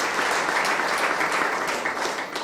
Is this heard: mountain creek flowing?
no